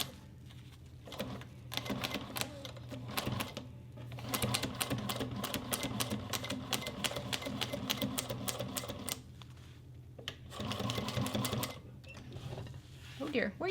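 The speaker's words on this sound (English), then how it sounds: "So now make sure you backstitch at the beginning and the end of this." A sewing machine stitches through layers of a leather two-toned boxy bag with a fast, continuous mechanical chatter broken by short pauses for backstitching. A person talks throughout.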